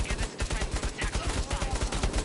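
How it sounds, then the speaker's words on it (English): Rapid gunfire from the PSVR game Bravo Team, a fast, steady burst of thin, repeated shots with little punch, continuing throughout. "The gun sounds fairly weak"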